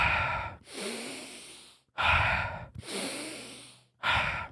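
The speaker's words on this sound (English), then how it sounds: "taking deep breaths in." Slow, deep breathing, close and alone: long airy inhales alternate with audible exhales over a few seconds in a steady rhythm.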